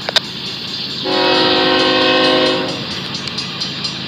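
A BNSF ES44C4 locomotive leads a long northbound freight train in light rain, its horn sounding a sustained chord over a steady rumble of rolling railcars, loud and close.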